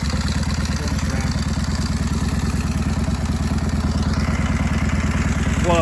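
A 1929 Indian 101 Scout bobber motorcycle engine runs steadily and close, a loud, even, rapid thumping beat that holds throughout with a slight rev near the end.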